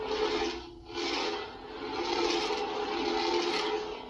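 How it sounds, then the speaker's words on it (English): A NeoPixel lightsaber's sound effect distorts into a harsh, raspy, buzzing hum that stays close and loud, with brief dips and swells. "the sound effect's already distorting again"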